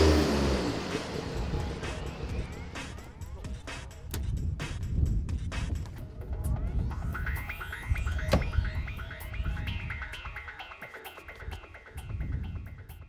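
A Porsche 962 Le Mans race car accelerates hard, its engine note rising through the gears with sharp shifts, loud and close throughout, with no voices.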